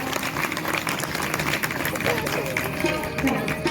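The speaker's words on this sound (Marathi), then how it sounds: "सगळ्यांनी एकदा टाळी वाजवून स्वागत करा" An audience claps in welcome at a Shiv katha religious gathering for Mahashivratri, a dense continuous patter of many hands with a voice speaking over it.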